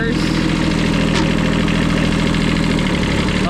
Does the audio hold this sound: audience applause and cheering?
no